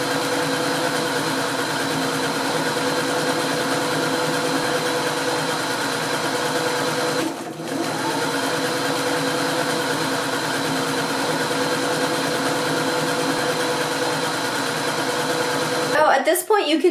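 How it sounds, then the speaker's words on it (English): A sewing machine stitches a ruffled collar with a steady, even mechanical whir that runs without break for a long stretch, dips once briefly, then cuts off near the end with some handling clatter. "At this point, you can turn your sewing machine off for a second."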